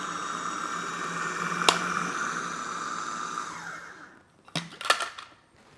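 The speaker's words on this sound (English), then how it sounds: "I'm just putting part of these chickpeas in the blender as first" A blender chopping chickpeas, a steady whirring motor hum for about four seconds with a sharp click partway, then stops, followed by a few brief clattering pulses.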